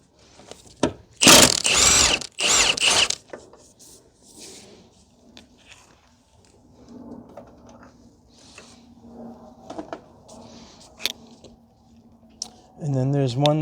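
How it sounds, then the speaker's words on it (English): A hand ratchet works on 14 mm bolts of the passenger-side engine mount on a 2003-2008 Toyota Corolla 1.8, giving short bursts of clicking and mechanical rattles close by, followed by quieter tool handling. "So we are going to start removing bolts, the 14."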